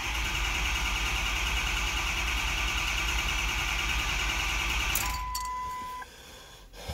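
A Ford 6.0L Powerstroke diesel engine with a crank-no-start fault cranks steadily and loudly for about five seconds, then cuts off, leaving a brief electronic tone and quiet shop ambience.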